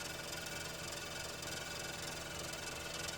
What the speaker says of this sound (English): You can notice the noise and the high vibration of the stand bar due to the poor idling of the